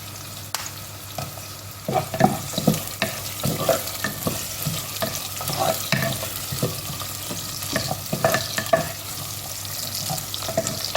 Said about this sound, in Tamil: நல்லா சிவந்து வரட்டும் வெங்காயம் நல்லா செவக்கணும்